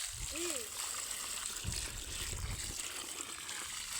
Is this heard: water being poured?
yes